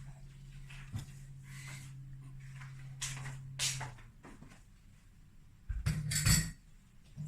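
Beaten eggs being worked into raisin bread dough in a bowl, with scattered clinks and scrapes of a utensil against the bowl, quiet and close, plus a louder clatter near the end.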